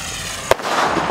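An aerial spinning-wheel firecracker (sky chakra), one of the Sivakasi export crackers, bursts overhead with two sharp cracks about half a second apart over a continuous loud fizzing, crackling roar.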